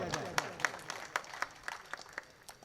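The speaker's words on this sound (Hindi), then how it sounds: "हमारे बीच जोरदार तालियों से स्वागत किया जाए।" Scattered claps from a mushaira audience at Aman Lawns in Beed welcoming a guest poet, sparse and uneven sharp hits with a faint murmur underneath, moderately distant.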